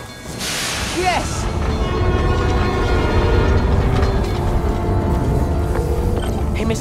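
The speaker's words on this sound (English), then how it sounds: "Trusty New York subway." A New York subway train in the video game Marvel's Spider-Man: Miles Morales rumbles past loudly and steadily, with a brief rising horn-like tone near the start over the continuous rail noise and no talk.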